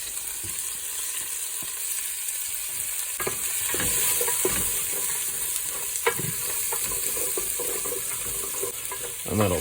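Onion hits a hot pan for Australian-style chili and fries with a loud continuous sizzle, while a spatula scrapes and taps irregularly across the pan throughout.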